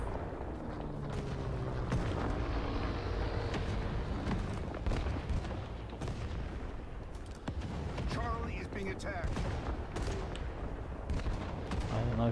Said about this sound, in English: Mortar's got me.